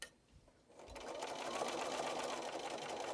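A sewing machine runs steadily, stitching a fabric bowl cozy over a dart and finishing with a back tack; the motor hums close and continuous after a brief pause.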